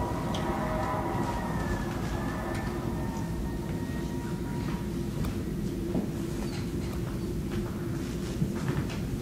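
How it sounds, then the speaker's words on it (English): Fire engine and ambulance sirens wail, rising and falling, partly drowned by a dense, steady rumble, with a few faint clanks scattered through. "Fire engines and ambulances."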